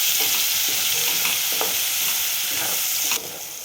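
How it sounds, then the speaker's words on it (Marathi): Ground onion paste sautéing in a pan for a cabbage and pea dry curry, a steady loud sizzle with scraping stirs throughout, dropping slightly softer near the end. "कांदा जो आपण वाटून घेतला होता तो कांदा टाकते. छान गुलाबी कलरवर परतून घ्यायचा याला."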